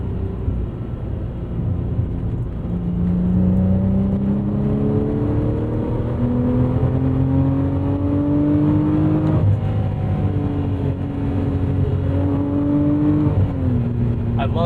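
A 2012 Porsche Cayman R (987.2) sports car engine climbs steadily through the revs while driving, its note rising in pitch, dipping at a gear change midway, then building again in a loud continuous pull.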